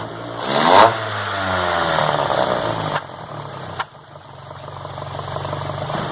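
A VW Golf MK2 GTI engine running on motorcycle carburetors idles close by with a steady, slightly uneven hum, a brief rev near the start and a couple of sharp knocks or spits, no talking.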